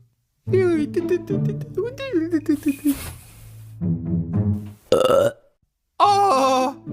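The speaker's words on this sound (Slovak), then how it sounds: "On si grgol." A long, loud belch from a baby or small child rolls out in a drawn-out, croaking burst, with short voiced sounds after it and someone talking before and around it in a quiet room.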